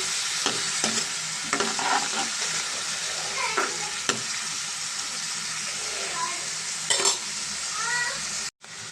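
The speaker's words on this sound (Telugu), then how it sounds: "ఉల్లిపాయలు బాగా ఫ్రై అవ్వాలండి" Onions fry in a pan for a mutton curry, giving a constant bright sizzle broken by repeated scraping clinks of a spoon stirring, with a brief drop near the end.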